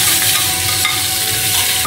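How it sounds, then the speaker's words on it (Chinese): Carrots stir-fried in a little oil in a hot wok give a steady, close sizzle with continuous scraping and stirring, and no voice is heard. "像这样不停的翻炒。"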